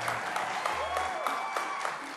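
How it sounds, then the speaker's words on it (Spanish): Brief applause for a guest invited to the table on a Galician cooking show making amatriciana spaghetti and shell pasta, fairly faint, with voices and studio sounds mixed in. "Un aplauso para ela, veña."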